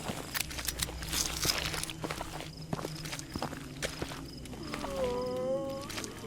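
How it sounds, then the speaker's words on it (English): Footsteps in a horror video game walk steadily behind the listener, a run of soft repeated thuds under ambient game sound, with a brief tonal game cue near the end. "I hear someone else walking behind us."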